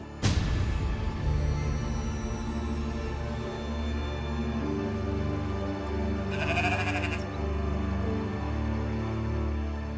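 A goat bleating loudly and close, one long wavering cry that sustains over several seconds, set against a steady droning background.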